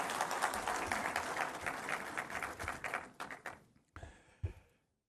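An audience at a tax excellence awards ceremony applauds in a dense burst of clapping that thins and fades out, ending with a few scattered claps and thuds.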